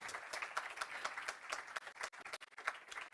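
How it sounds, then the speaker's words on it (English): An audience applauds with steady, dense clapping at a youth summit in Miami, moderately loud with no voices over it. "Let's give them a round of applause."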